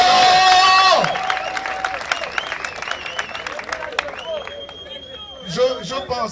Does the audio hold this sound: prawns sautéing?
no